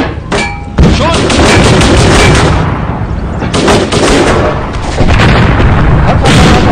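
Tank cannon fire in the video game Steel Fury, a loud booming blast followed by sustained roaring rumble, then further heavy bursts, close and dense.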